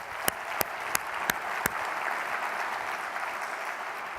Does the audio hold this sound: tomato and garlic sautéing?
no